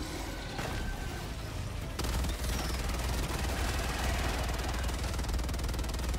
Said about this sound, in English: See that SMG go off like that